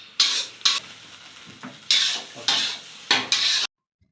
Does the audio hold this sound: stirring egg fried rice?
yes